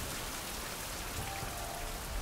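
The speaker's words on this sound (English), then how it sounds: "I can't hear anything because the freaking rain" Rain falling in the video game Survival: Fountain of Youth, a steady, dense hiss of droplets drumming on surfaces, constant and unbroken, fairly quiet and with no voices over it.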